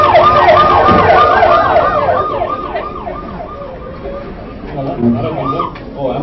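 An ambulance siren wails in rising and falling sweeps at a road accident scene, loud and near at first, then fading and returning, with people talking over it.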